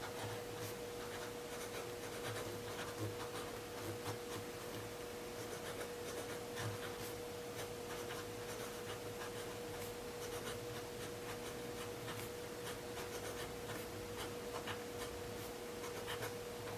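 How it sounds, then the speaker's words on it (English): Pen writing in an A6 Hobonichi journal, a soft continuous scratching and rubbing of nib on thin paper, close and steady over a constant low hum, with no talking. "So I am going to write a little bit."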